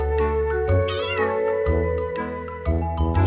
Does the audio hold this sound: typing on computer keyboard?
no